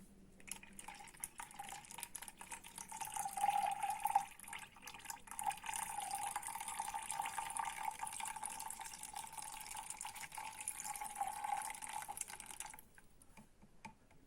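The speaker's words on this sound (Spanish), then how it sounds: "Como tercer y último líquido se procederá a agregar la gasolina, de igual manera 100 mililitros" About 100 millilitres of gasoline poured onto water and oil in a container, a steady liquid pour lasting around ten seconds, close and continuous with no talk, ending abruptly.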